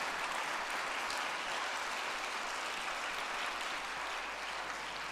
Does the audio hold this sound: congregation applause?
yes